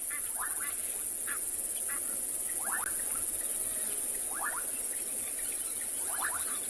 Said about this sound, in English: listening to the various insects and crickets at night is really, really nice